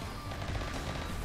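Automated turrets firing in the game Rimworld during a fight with bugs, a dense continuous rattle of rapid shots with crunchy impacts, steady and fairly loud throughout with no talk over it.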